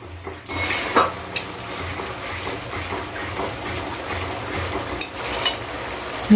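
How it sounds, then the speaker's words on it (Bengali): Yogurt thinned with a little water stirred into a pan of vegetable curry, with a soft continuous sizzle under repeated spoon scrapes and a few sharper clinks against the pot, no talking. "সামান্য একটু জল দিয়ে দিলাম দইটা ভালো করে ঘুটে না দিলে ডিম ডিম হয়ে যাবে"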